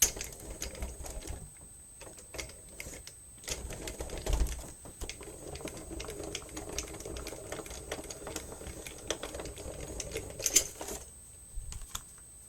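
A craft die-cutting machine running a folder through, giving a steady low mechanical rumble with light clicks and ticks, fairly faint and continuous for several seconds, with no talk over it.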